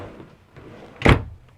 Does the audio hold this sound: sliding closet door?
yes